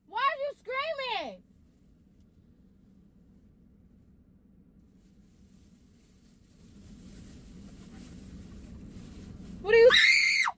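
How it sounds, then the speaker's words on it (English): A person screams at the top of their lungs in two short loud bursts near the start and once more at the end, with quiet room tone and a low rumble in between. "Why are you screaming?"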